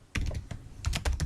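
Sharp clicks of a computer keyboard as web code is typed, about nine close, crisp keystrokes in uneven quick bursts, with no voice.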